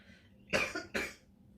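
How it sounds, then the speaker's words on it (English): Two short, harsh coughs in quick succession, close by, with quiet room hiss before and after. "I'm gonna need to cough, sorry, I still have a cough."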